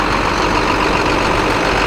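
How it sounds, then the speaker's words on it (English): International DT466 turbo diesel engine idling in a 2005 IC CE300 13-row school bus, a loud, close, steady low rumble with a dense, even drone and no variation in pace. "It's got that DT466 turbo diesel engine coming along right there"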